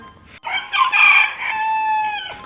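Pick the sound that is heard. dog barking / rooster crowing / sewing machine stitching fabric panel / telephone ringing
rooster crowing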